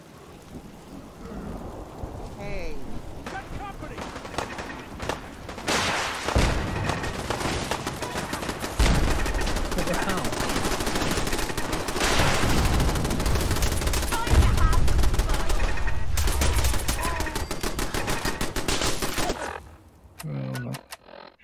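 Plasma turrets and gunfire in Fallout 4 VR make a dense, continuous barrage of crackling shots and rumbling blasts that keeps going for most of the stretch before it thins out near the end.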